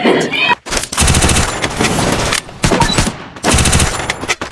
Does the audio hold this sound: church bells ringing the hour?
no